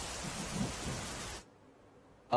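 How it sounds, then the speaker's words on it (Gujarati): Heavy early-morning downpour in Dhanera, Banaskantha, Gujarat: a steady, dense rain hiss that lasts about a second and a half, then cuts off into near silence before a brief, sharp sound at the very end. "બનાસકાંઠાના ધાનેરામાં વહેલી સવારથી ધોધમાર વરસાદ પડી રહ્યો છે"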